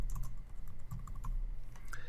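Fingers typing a username and password on a computer keyboard: quick, close, irregular clicky keystrokes in short bursts, with no voices.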